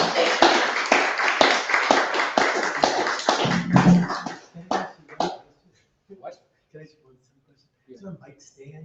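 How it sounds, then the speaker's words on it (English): An audience at a poetry festival gives dense, sustained applause for about four seconds before it thins to scattered claps and a few coughs, then near quiet. "Let's have a warm round of welcoming applause for Eliot Katz."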